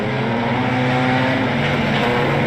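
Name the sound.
wingless sprint cars racing at Timmis Speedway, Mildura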